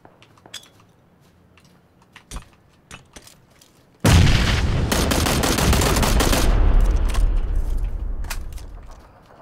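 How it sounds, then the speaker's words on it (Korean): A grenade explodes amid gunfire in PUBG Battlegrounds, with a few scattered sharp shots, then a sudden loud, sustained blast of rumbling roar and crackle that holds for several seconds before fading. "수류탄"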